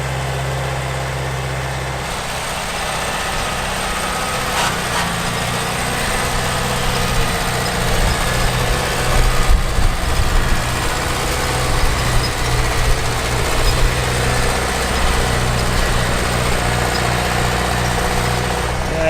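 An old tractor engine, left abandoned before being revived and set to planting five acres, runs steadily with a low rumbling drone throughout. It sits close and loud, with no pauses, and faint voices are mixed in at times.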